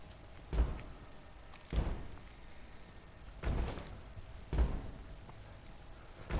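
A door in The Evil Within 2 is knocked and banged on in heavy, irregular thuds, four or five loud blows spaced a second or more apart with no talk.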